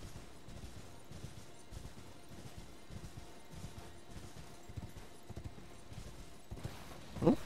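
Rhythmic clip-clop of horse hooves galloping in the Elden Ring video game, a steady repeating beat at moderate level with a brief sharp whinny-like accent near the end.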